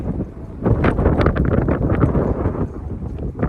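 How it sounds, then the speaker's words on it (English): Wind gusting across the microphone on an outdoor running track, a loud, rough, continuous rumble that surges and eases for several seconds. "More wind, bring it on."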